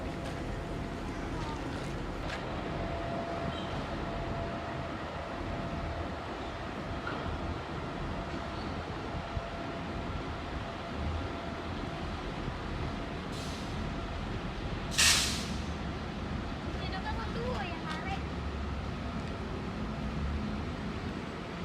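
Steady low rumble of the Rajabasa passenger train on the Palembang–Lampung line running nearby, with a faint hiss and a brief sharp burst partway through; quiet murmur of voices in the background.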